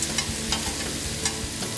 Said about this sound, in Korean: 그들이 손수 만든 무쇠솥에 구워 먹는 삼겹살이라 더욱 특별하다.